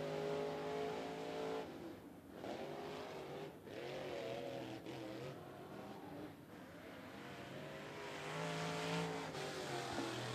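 A late model race car laps a short racetrack, its engine revving hard and rising and falling in pitch as it accelerates and lifts through the turns. It sounds moderately distant and continuous, with no talk.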